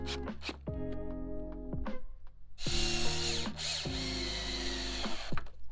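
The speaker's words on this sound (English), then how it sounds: "before screwing it down." Power drill screwing down a wooden stair tread: several close whirring bursts that rise and fall in pitch, with the motor changing tone as the screws bite, no talking.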